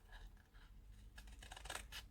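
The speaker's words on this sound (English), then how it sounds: "just bring your scissors in and cut that bit off" Scissors snipping through craft ribbon at a table, a few short close rasping cuts clustered near the end over faint background rustle.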